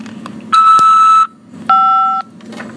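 Electronic beep tones on a prison telephone call line: two loud, steady tones in a row, the first about three-quarters of a second long and the second slightly shorter, heard alone over faint line hiss.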